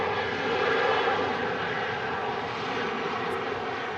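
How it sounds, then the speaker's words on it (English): Heavy aircraft taxi and roll at Manchester Airport on a windy day, a steady broad roar of engines with rumbling wind noise, distant but constant, no voices. "A lot of heavy aircraft moving"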